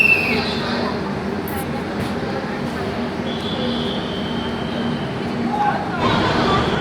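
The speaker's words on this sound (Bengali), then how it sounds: "একদম কারেক্ট টাইমে আমাদের ট্রেন ছাড়লো SMVT ব্যাঙ্গালোর থেকে।" Inside the 12246 SMVT Bangalore–Howrah Duronto Express as it pulls out of the station, a steady low rumble of the moving train, with faint squeals and a swell of noise near the end.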